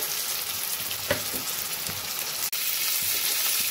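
Sizzling from tomatoes and spices going into onions already frying in a pan for a Bengali meat-style pickle, a steady loud hiss with a brief clatter of ingredients dropping in and one sharp knock near the end; no one speaks.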